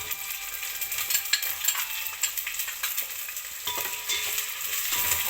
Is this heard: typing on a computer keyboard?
no